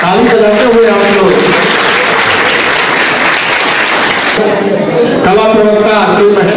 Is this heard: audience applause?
yes